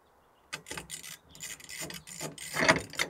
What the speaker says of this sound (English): So let me get my speed wrench out.